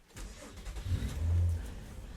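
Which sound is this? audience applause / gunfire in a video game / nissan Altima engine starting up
nissan Altima engine starting up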